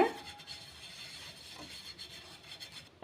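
Oil is brushed across a hot dosa griddle before wheat dosa batter goes on, a soft, close scraping rub that repeats in short, uneven strokes.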